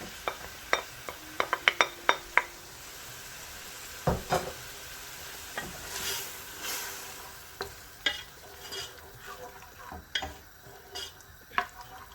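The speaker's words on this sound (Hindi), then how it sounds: "अब इसमें टमाटर का ऐड करूँगी, ये 2 हैं अदद हैं, छोटे साइज़ के थे 2 अदद, इसको इस तरह से मैंने काट लिया है, ये भी इसमें डाल दूँगी।" Chopped small tomatoes go into a pan of mustard greens curry being cooked for sarson ka saag, giving a low frying hiss with scattered scraping stirs and sharp utensil clinks against the pot, no voices.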